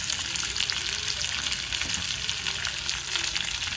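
Chopped ginger and green chillies fry in hot oil for poha upma, a dense, steady, crackling sizzle close up throughout, with no voices.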